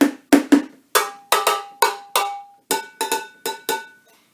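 Different-sized kitchen pots and pans banged in turn as a homemade music activity for a baby, a dozen or so sharp metallic clangs in an uneven rhythm, some ringing briefly with bright tones, loud and close with no talking.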